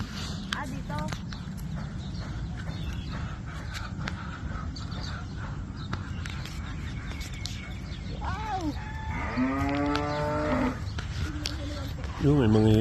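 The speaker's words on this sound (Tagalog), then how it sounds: "Kadaming baka." Cattle low loudly on a farm road, with long harmonic moos near the end over steady outdoor ambience, scattered birdsong and hoof-like clopping, as people talk nearby.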